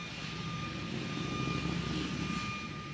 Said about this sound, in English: a motorbike is coming past making loads of noise